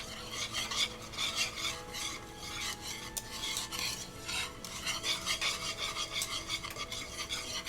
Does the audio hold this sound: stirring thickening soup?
yes